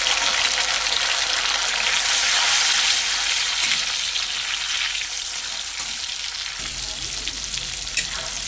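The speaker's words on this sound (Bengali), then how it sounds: "পেঁয়াজ টমেটো আমার ভাজা ভাজা হয়ে গেছে" Onion and tomato fry in oil with spices for a chicken curry, giving a bright, steady sizzle that eases slightly partway through, with a soft low stir or clunk near the end.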